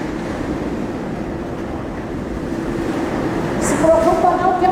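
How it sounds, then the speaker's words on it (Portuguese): Wind blows as a steady, loud broadband rush that swells slightly toward the end, with a brief tonal whine or voice at the close. "Se preocupa não, que é o vento mesmo."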